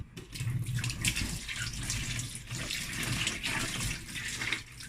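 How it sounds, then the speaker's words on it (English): Tap water runs steadily into a sink while a pepper is rinsed under it, a close, continuous splashing stream with slight shifts as the vegetable moves through the flow. "I'm going to wash the pepper."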